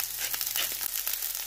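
Onions frying in a pan beside potatoes, with salt added, give a continuous close hissing sizzle with slight crackling flickers, steady and unbroken, with no voices.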